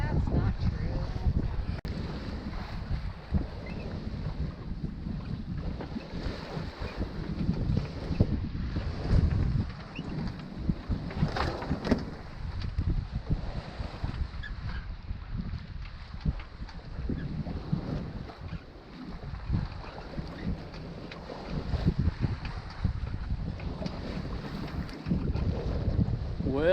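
Steady wind of about 17 to 20 knots rushes over a sailboat on Lake Michigan ahead of a forecast gale, buffeting the microphone in a continuous roar with gusty swells.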